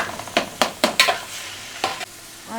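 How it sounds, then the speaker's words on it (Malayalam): Onion and tomato sauté in a pan for a Kozhikode-style biryani: a spatula scrapes and stirs in several distinct strokes over a low, steady frying sizzle, with no talking. "ഇനി ഇത് നല്ലോണം വയറ്റിയെടുക്കാം നമുക്ക് വയറ്റിയെടുക്കാം"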